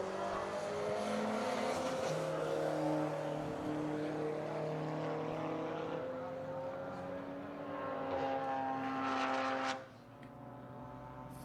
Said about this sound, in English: Fiona coming into the brake zone of Sunset.